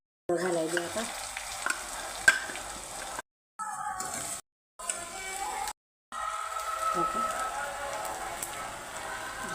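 An onion and garlic masala paste for garlic chicken curry sizzles and crackles in a pan while being stirred. The frying is steady and close, broken by a few short silent gaps, with faint speech now and then.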